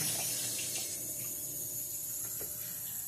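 A Whirlpool washing machine fills with cold water, a steady rushing hiss of water flowing through the valves, continuous and close with no talk.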